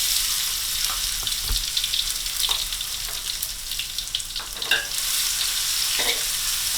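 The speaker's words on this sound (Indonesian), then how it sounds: "semua bahan isian yang terdiri dari sayur-sayuran ditumis bersama dengan bawang putih, bawang bombay, serta sedikit lada dan garam" Vegetables sauté with garlic, onion, pepper and salt in a hot pan, giving a continuous close sizzle broken by repeated scrapes and clacks of a spatula stirring.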